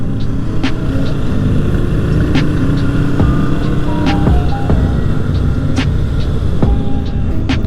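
A 1970s-era Yamaha XS750 motorcycle engine on a street ride, a steady loud throbbing rumble with wind noise and faint passing clicks, no talk.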